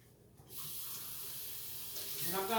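Tap water runs into a kitchen sink to rinse hollowed bell peppers, a steady close hiss that starts abruptly and splashes more toward the end.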